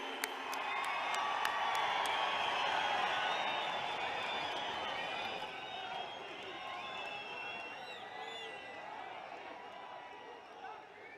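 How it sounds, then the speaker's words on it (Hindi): A large audience applauds and cheers to welcome the Prime Minister at a gathering with panchayat representatives, sustained loud clapping that slowly fades toward the end, with whoops mixed in. "आपकी जोरदार तालियों में माननीय प्रधानमंत्री जी"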